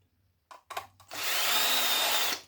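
A power driver backs screws out of old electronics being scrapped for brass and silver: a few short handling knocks, then a steady, loud whirring spin lasting just over a second.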